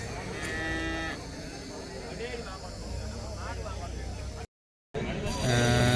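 Cattle moo loudly and repeatedly at the Chinapuram cow market in Erode, where young heifers are sold, over a steady outdoor crowd murmur while people talk nearby.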